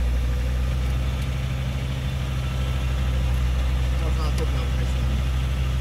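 A Lada Niva engine idles just after starting, a steady close low rumble that runs without a break.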